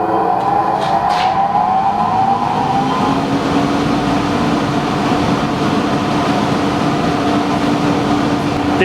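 The motor of a heavy-duty workshop dust extractor runs loud and steady throughout, giving a constant whine with a slowly shifting tone and no speech.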